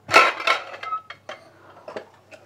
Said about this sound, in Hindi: हम खोल लेंगे कुकर को